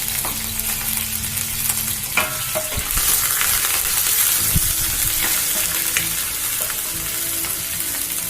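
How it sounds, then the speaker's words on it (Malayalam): Ginger, garlic, green chili and curry leaves fry in hot coconut oil in a pan, a loud, steady sizzle with crackles and scraping stirs throughout. "വെളിച്ചെണ്ണ നന്നായിട്ട് ചൂടായിട്ട് വരുമ്പോൾ അതിലേക്ക് ഇഞ്ചി, വെളുത്തുള്ളി, പച്ചമുളക് ചേർത്ത് കൊടുക്കുക"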